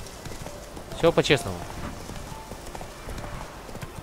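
In The Witcher 3 video game, a horse's hooves clip-clop in a soft, steady rhythm beneath someone talking, with a brief louder cluster of steps partway through.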